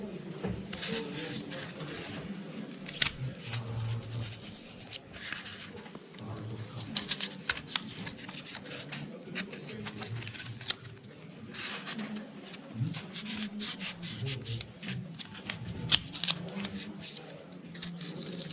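Cutting terrain material for a desert diorama to open a hole, heard as steady scraping, snipping and crunching close to the microphone, with someone talking over the work.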